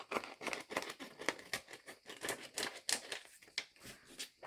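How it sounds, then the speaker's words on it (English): Scissors snip paper for B6 Stalogy planner pages in a quick, uneven run of close crisp cuts and rustling crinkles, with no talking. "I'm just going to do what I usually do and just sort of snip a bit off"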